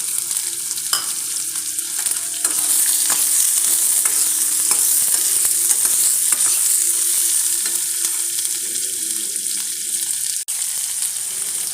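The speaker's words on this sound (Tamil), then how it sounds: "சின்ன வெங்காயம் 1 கப்பு கட் பண்ணி வச்சுருந்தேன், போட்டுக்கலாம். கொஞ்சம் கருவேப்பிலை, அடுத்து 4 வரமிளகாய்" Sliced shallots, curry leaves and dried red chilies frying in hot oil for a green gram curry, a loud continuous sizzle with stirring clinks and scrapes close by, no talk.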